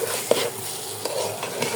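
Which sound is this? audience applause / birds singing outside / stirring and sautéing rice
stirring and sautéing rice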